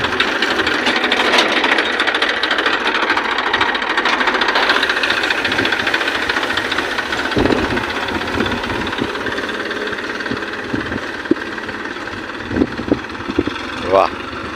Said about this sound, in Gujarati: ટ્રેક્ટર હાંકીને ખેતરને સીધું કરી નાખે